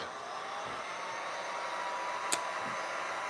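A hair dryer blows steadily on a freshly painted upcycled tin can craft, a continuous close, even whoosh with one brief sharp knock partway through.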